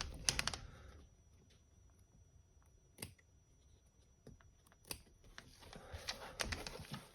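Scissors make a few sharp, quiet snips and clicks, spaced apart, while trimming the fabric binding on a tote bag. A soft rustle of cloth fills the end.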